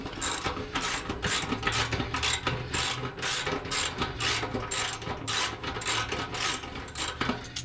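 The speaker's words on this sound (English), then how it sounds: "That's gonna take a wrench" A ratchet wrench working an exhaust bolt on a Subaru, with rapid repeated clicking in steady bursts, close and fairly loud, and no talking.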